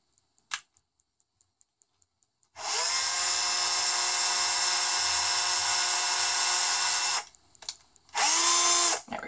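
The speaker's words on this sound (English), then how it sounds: "I'm going to drill a little farther real quick." A power drill bores into cured resin flower jewelry, a few faint ticks first, then a steady high-pitched whine running about five seconds, stopping briefly, and starting again in a short second burst.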